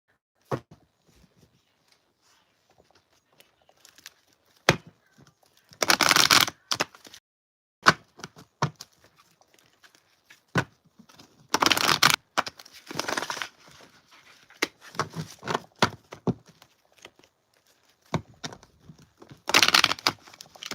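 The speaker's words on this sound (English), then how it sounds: "I'm about to shuffle these cards and see what come out." A deck of cards being shuffled up close, with several separate bursts of riffling and crackling between quieter stretches of handling, and no talk.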